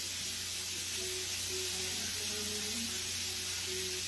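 Beef searing in a pan for beef and broccoli, a steady soft hiss and sizzle over a low hum, faint and continuous with no distinct pops or talk.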